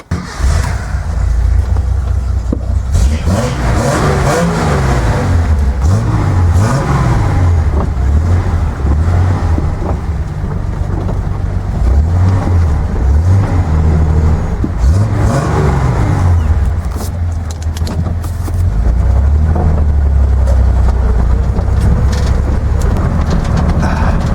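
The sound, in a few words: Datsun 240Z engine with new headers and exhaust driving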